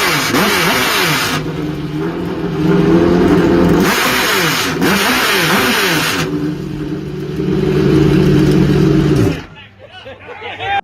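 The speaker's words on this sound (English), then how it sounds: "I want to show a couple of exhaust clips from the C8R" Chevrolet Corvette C8.R race car exhaust, a loud, harsh race engine note rising and falling through repeated revving surges before cutting off abruptly near the end.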